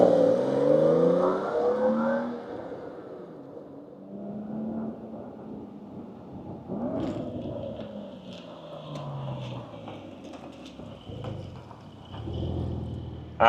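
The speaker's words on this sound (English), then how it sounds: "let's fire up this Carrera T and hear what it sounds like." A 2025 Porsche 911 Carrera T starts up, a loud cranking catch and rev rising at first, then settling into a steady idle rumble, close and alone with no talk.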